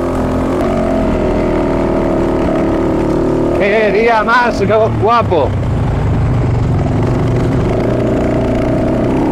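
A Fantic 450 Rally motorcycle on Michelin Desert tyres runs with a steady, loud engine drone during a rally gathering ride, and someone speaks briefly over it midway.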